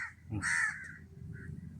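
A single harsh crow caw rings out clearly, followed by quieter outdoor background noise.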